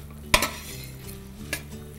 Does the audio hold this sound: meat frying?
yes